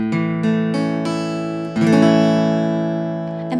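A major chord strummed on guitar, ringing clearly and loudly, with several strums and sustained decay between them.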